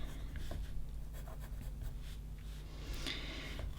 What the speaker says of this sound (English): I'm just going to go back in and just fix up some of those pencil lines